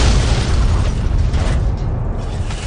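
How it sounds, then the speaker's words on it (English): Explosions in the video game Fallout 3 roar as a sustained, loud, rumbling blast that fills the whole stretch with dense low-end boom and crackling debris, with no talking. "Explosions!"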